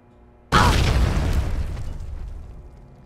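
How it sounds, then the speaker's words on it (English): A frag mine blowing open a lock in the Fallout 3 video game, a single loud, sudden boom after a quiet moment, followed by a long rumbling decay. "Attempt to breach lock. Frag mine."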